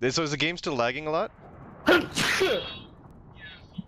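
A single sharp sneeze bursts out just after someone speaks, during a casual gaming livestream chat, brief and close to the microphone, followed by a faint breathy trailing sound.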